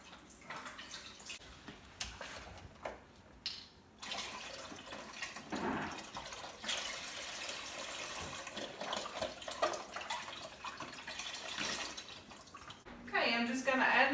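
Chicken broth pouring into a cooking pot, a soft continuous liquid splash and trickle, fairly faint and close, with brief handling clatter and louder pouring toward the end.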